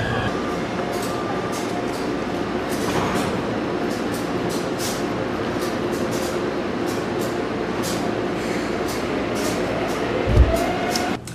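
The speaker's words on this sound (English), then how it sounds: "So why are we in an MRT station, a subway in Taipei?" A steady loud rumble of a subway train in an MRT station in Taipei, with a continuous roar and occasional rattles and clicks, no talking.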